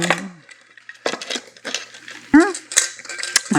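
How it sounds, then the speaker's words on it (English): A baking container goes into a preheated 350-degree oven with close, scattered metallic clinks, knocks and clatters spread across a few seconds. "all I'm gonna do is just to put it into my container and put it in the oven"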